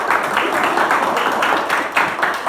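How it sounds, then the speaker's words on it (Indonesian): A classroom of students claps for a classmate, a short burst of close, even applause with a steady rhythm and no talking. "Kasih tepuk tangan."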